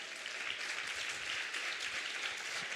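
A church congregation applauds together in a dense, steady burst of clapping that fills the room at even loudness, with no talk over it.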